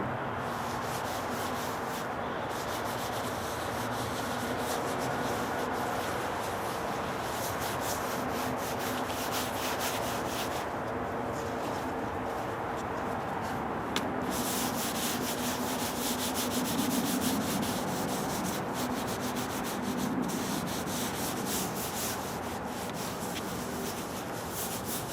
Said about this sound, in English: Just take us some lacquer thinner and wipe it down.